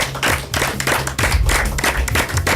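Audience applause and clapping at a rock festival opening-night game show, dense and steady throughout with a rhythmic clap pattern underneath and low music or crowd rumble.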